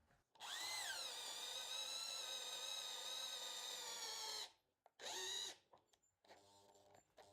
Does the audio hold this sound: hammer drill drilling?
yes